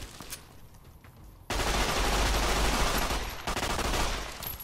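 Sustained automatic gunfire in the Fallout video game, a dense, loud, continuous volley that starts abruptly and rattles on for several seconds, briefly dipping before resuming, with no voices over it.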